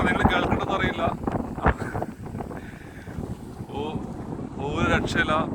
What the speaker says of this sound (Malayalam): ഒരു രക്ഷയില്ല, ഭയങ്കര കാറ്റാണ്, കണ്ടില്ലേ, ഭയങ്കര കാറ്റ്.